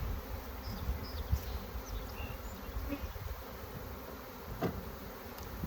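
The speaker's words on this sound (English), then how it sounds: "You can hear it, huh? Just a couple of bees in the air." A swarm of honeybees, about 3.5 pounds of them, buzzing in the open air, a faint steady insect hum with a few louder passes as bees fly near.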